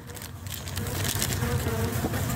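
A dense, steady buzzing of many honeybees close by at an open hive, a continuous droning hum that fills the whole stretch without pause.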